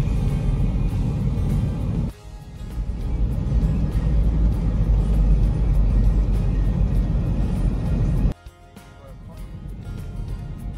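A car engine rumbles steadily from inside the cabin on a mountain road, with a low drone that drops abruptly twice as the load changes.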